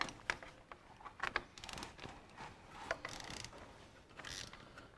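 Bolts being backed off a generator bracket on a 1954 Ferguson TEA20 tractor: close, sharp metallic ratchet clicks and tool taps in uneven bursts, with light rattling of metal parts between them.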